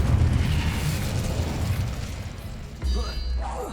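A fiery Incendio spell blast in Hogwarts Legacy, heavy booming rumble up front that fades, then a second burst near the end, with a voice calling out over the effects.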